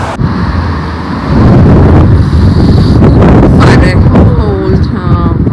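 Cold wind gusts outdoors on a town street near a church, buffeting the microphone with a loud, steady low rumble that swells and persists under faint voices.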